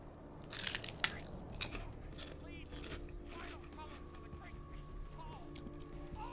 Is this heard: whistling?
no